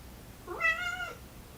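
A pet cat gives a single clear, drawn-out meow indoors, rising then falling in pitch, close and moderately loud against a quiet room.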